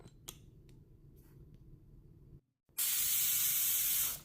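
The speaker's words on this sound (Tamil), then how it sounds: "குக்கரில் நல்லா ஸ்டீம் எல்லாம் ரிலீஸ் ஆனதுக்கப்புறமா" Steam hisses loudly and steadily from a pressure cooker after boiling colocasia root, a bright continuous rush that starts abruptly after brief quiet and runs to the end.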